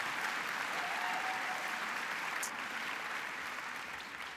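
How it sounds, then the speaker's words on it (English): Audience applause filling a conference hall at the CHI 2026 closing ceremony, a dense, steady wash of clapping from a large crowd that holds for several seconds before easing slightly at the end. "Please give them a round of applause."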